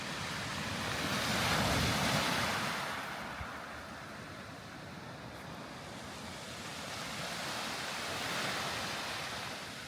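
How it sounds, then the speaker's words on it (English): Surf washing onto a black sand beach on Iceland's Snaefellsnes peninsula, waves dragging pebbles back as they recede, a steady broadband roar that swells and eases, close and loud, with wind on the microphone and no talk. "when the waves drag some of the pebbles back in, it's miraculous."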